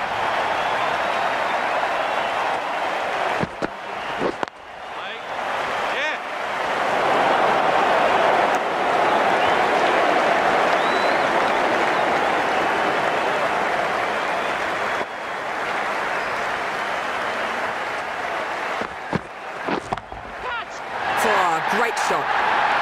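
A stadium crowd roars in a Cricket 19 IPL match as spectators rise hoping to catch a six, a broad, sustained wash of cheering that swells and dips over many seconds, with a commentator's voice running over it.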